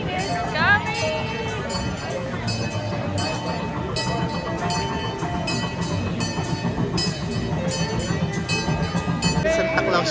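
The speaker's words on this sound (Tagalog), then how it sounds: "Train is coming!" A train passes through a Christmas Santa Village attraction, a steady rolling rumble with clattering wheels and a brief whistle-like tone. It stays fairly loud throughout, and people talk over it.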